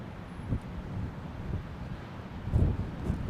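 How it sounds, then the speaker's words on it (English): Blustery wind buffets the microphone outdoors beside an airfield where a 747 and other aircraft are landing, a steady low rumble with stronger gusts near the half-second and around two and a half seconds. "What's the wind speed now, Aaron Thomas?"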